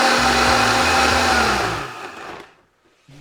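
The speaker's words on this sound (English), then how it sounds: "we're just gonna blend this until it's a nice, creamy, smooth, thick sauce" A blender whirs loud and close while blending a creamy vegan taco sauce made with soy milk, then winds down and stops near the end.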